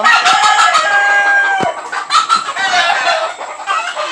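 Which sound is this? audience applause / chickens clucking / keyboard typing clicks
chickens clucking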